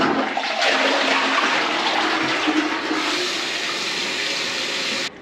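A toilet flushes with a loud, steady broadband rush of water for about five seconds, cutting off abruptly near the end.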